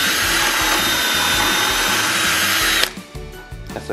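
A power drill fitted with a countersink bit whirs steadily in a home workshop, a loud continuous grinding whine into a wooden shelf that cuts off abruptly, followed by brief rattles and handling noises.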